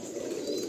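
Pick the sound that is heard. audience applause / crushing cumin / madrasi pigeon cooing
madrasi pigeon cooing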